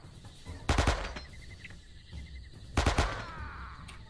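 Gunfire in the World War II shooter Men of Valor, two sharp bursts of rapid automatic fire about two seconds apart, loud and close over a quiet background.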